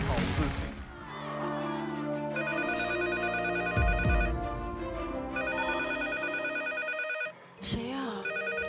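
A telephone rings repeatedly with a bright, electronic tonal bell on a TV dating show stage, loud and close, with brief crashes and studio noise between the rings.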